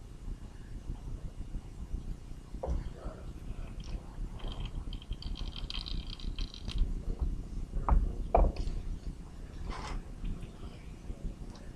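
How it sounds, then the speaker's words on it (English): A car A/C compressor clutch is cycled during service while refrigerant oil is drained, giving faint mechanical clicks and clunks over a steady low rumble, with a couple of louder knocks near the end. "We're also going to kind of cycle the clutch on the compressor to make sure that we're getting as much of the fluid out as we can"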